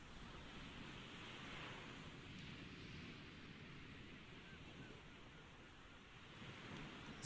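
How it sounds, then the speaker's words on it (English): Open-sea waves in the video game GTA 5 wash and roll out at sea, a steady, dense rush of surf with a wind-like hiss. It is continuous and evenly loud throughout, with no voices. "as we go further out to sea, the waves become slightly bigger."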